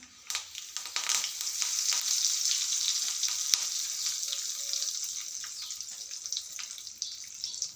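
Curry leaves dropped into hot oil already holding mustard seeds, cumin and asafoetida for a moong dal tempering give off a loud, continuous crackling sizzle that starts suddenly and then settles into a steady hiss, with no talking.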